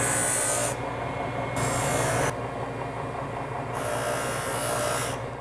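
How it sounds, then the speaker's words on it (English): A polishing motor runs steadily on a metalwork piece after solder removal, a close continuous whirring buzz with a rubbing edge that rises and falls in loudness as the piece is pressed against the wheel and eased off. "Let's move to the polishing motor."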